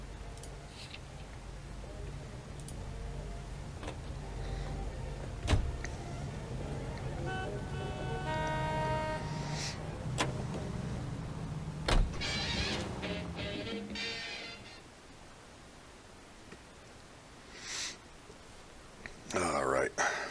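A car drives in L.A. Noire with a steady engine hum and road noise under occasional ticks and clicks. Voices talk over the drive, and the vehicle sound drops away near the end.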